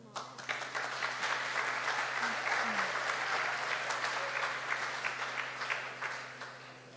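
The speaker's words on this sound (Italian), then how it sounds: "Un applauso Simone." A church audience at a special anniversary service breaks into sustained, dense applause that holds at an even, full level from start to finish.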